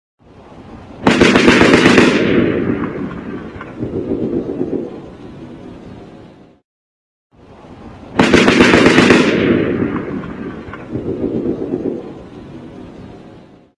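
Automatic gunfire recorded at the Las Vegas shooting, two bursts of rapid, rattling shots, each sharp onset followed by seconds of rolling echoes that decay before a short silence.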